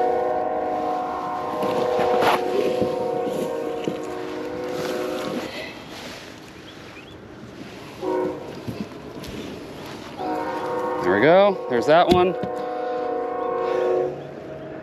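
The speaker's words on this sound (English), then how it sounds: "Excuse the train, guys. I live right next to a train." A train rumbles past close by, sounding its horn several times in long tones, with someone briefly talking over it.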